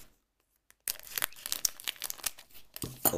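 Wrapper of a Japanese Pokémon Dragon Vault booster pack being torn open, a sudden run of close, sharp crinkling and tearing after a short silence.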